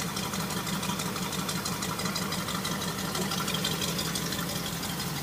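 A 1970 Ford Bronco engine sits at a warm idle, a steady, even mechanical hum and rattle that holds constant throughout at moderate loudness with no voices over it.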